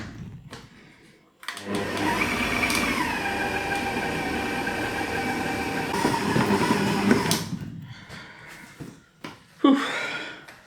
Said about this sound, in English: we'll just mix those with the paddle attachment